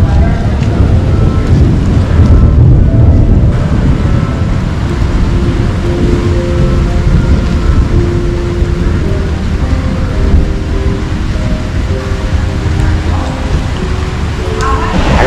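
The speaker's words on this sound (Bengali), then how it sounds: "বৃষ্টি পড়ছে।" Steady rain falls during a stormy evening by the Ganges, with a continuous loud broadband wash of rain and gusting wind buffeting the microphone throughout; a low rumble is present but no distinct thunderclap stands out.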